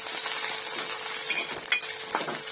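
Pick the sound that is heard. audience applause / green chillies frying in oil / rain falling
green chillies frying in oil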